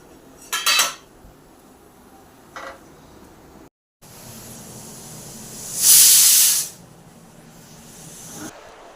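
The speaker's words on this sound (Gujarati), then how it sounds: "કુકરને આપણે બંધ કરી લઈશું। આપણે એને 5 વિસલ વગાડવાની, 5 થી 6 વિસલ વગાડવાની છે।" A loud burst of hissing steam whistles from a pressure cooker boiling potatoes for about two seconds, preceded by brief clinks of metal utensils.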